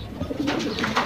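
A racing pigeon coos close by, a soft low throaty burble with a couple of swelling pulses, heard alone without talk.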